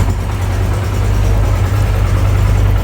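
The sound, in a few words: Yamaha YBR125 motorcycle engine idling after warm-up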